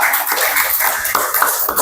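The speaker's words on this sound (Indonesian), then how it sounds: "tepuk tangan untuk kelompok visual, luar biasa" Classroom of students applauding the visual group, a dense continuous patter of many hands clapping at once, fairly loud and close, with no pauses.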